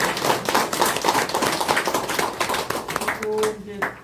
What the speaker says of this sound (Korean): 정혜국 교수님께 다시 한번 큰 박수